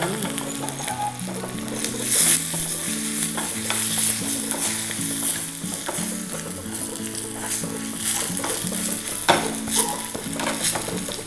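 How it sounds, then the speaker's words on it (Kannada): Dry red chillies sizzle and crackle in hot oil for a tempering, a loud, steady frying hiss close by, with soft background music underneath. "ಇಲ್ಲಿ ಒಗ್ಗರಣೆಯಲ್ಲಿ ಒಣಮೆಣ್ಸಿನ್ಕಾಯನ್ನು"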